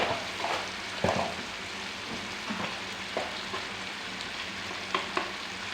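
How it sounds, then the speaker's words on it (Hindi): Chicken fries in a garlic and onion masala, giving a steady soft sizzle with occasional stirring scrapes and knocks, heard close and without talk. "ये हमारा चिकन भी फ्राई हो चुका है ये लहसुन और प्याज के मसाले में।"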